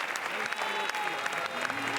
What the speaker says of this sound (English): Et là, la salle applaudit.